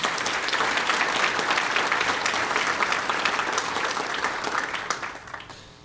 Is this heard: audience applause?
yes